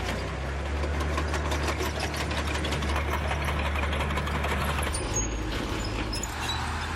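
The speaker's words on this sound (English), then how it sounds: "This German Stug 3 is equipped with a modern engine" German StuG III tank engine idling steadily with a deep low rumble and rapid mechanical ticking, loud and continuous for several seconds with no talk.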